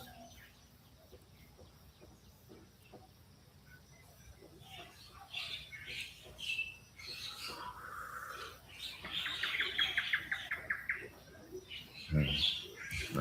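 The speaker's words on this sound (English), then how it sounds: "hears the birds gathering." Scattered bird chirps and calls at sunrise rise gradually over a low outdoor background, growing busier and louder toward the end.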